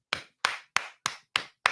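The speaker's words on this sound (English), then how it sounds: "we gonna clap, man. We gonna clap." Six sharp, separate hand claps at an even, unhurried pace, each crisp and close with a quick decay, with silence between them and no voices.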